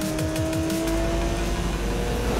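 Porsche 911 Turbo 3.0 engine in the racing game NFS: Most Wanted (2012), a loud steady drone with tonal bands held throughout, cut by brief rhythmic bursts early on, with no talking.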